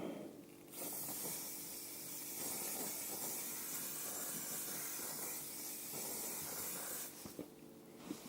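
A steady hiss of an aerosol can spraying for about six seconds, starting and stopping cleanly, fairly close and not very loud.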